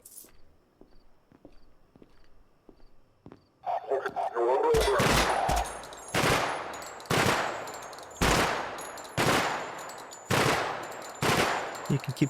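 Video game gunfire rings out as a series of loud, sharp bursts in a regular rhythm after a few seconds of quieter clicks, each shot decaying quickly, with background game sounds between.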